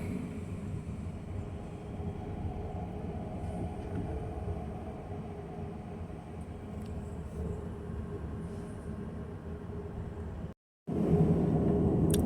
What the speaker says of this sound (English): I'm on a train heading southbound